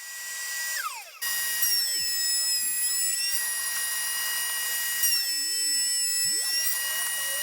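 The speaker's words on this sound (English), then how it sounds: "I'll finish cutting these mortises" A power router cutting mortises into tough reclaimed hardwood whines at a steady high pitch, with shifting tones as the bit bites and a brief pause near the start, close and continuous.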